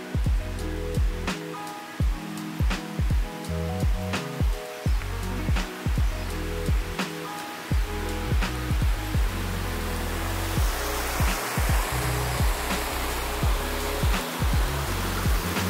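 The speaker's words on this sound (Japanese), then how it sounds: "今結構水の音入ってますね。" A nearby stream gives off a steady rushing hiss while someone walks over uneven ground, footsteps thudding in a regular rhythm over the water's sound.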